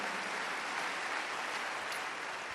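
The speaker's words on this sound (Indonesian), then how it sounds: "Give him another great hand clap" Church congregation applauding during a service, a quiet, even wash of many hands clapping heard from a distance, steady for a few seconds with no voices.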